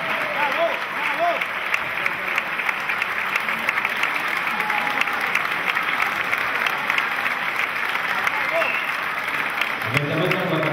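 Audience applause after a dance performance at an exhibition, a dense steady clapping that carries on at moderate volume with a few scattered voices under it.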